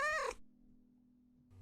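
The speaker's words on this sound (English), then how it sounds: "Ah, and Rusty is the cat" A house cat in the video game Servant of the Lake lets out a single short, bright meow, followed by a low, quiet hum.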